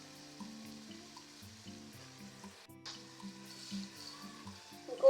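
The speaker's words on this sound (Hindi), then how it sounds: "इनको भी 1-2 मिनट के लिए हम अच्छे से फ्राई करेंगे" Tomatoes and green chillies frying in a pan for daal mash, a steady close sizzle running throughout with faint stirring clatter and a louder knock at the end, with no talking.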